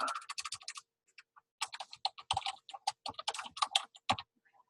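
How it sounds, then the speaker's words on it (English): Quick bursts of keystrokes on a computer keyboard, close and crisp clicking in uneven clusters with brief pauses between runs. "So you type sport, use the tab key to go to the next cell, coach, tab key"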